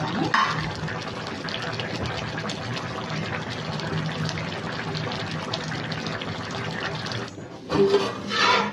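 Water pouring steadily into a pot of rice for home-made chicken biryani and being mixed, a continuous close gush and splash that stops near the end, followed by a couple of brief stirring sounds.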